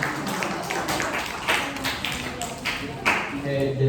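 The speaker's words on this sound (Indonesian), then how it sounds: "Tepuk tangan dong buat temannya." At a public speaking seminar, the audience gives a participant a light, sparse round of clapping, with scattered individual claps over a murmur of voices in the room.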